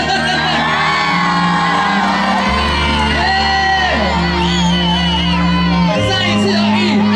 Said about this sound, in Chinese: 我希望呢，来点尖叫声！